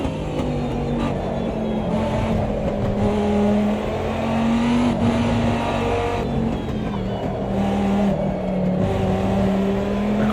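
Dodge Viper GTS-R race car in Automobilista 2, 2005 ALMS season, its engine droning steadily and loud throughout, with pitch dipping and rising as the car shifts and brakes around the circuit.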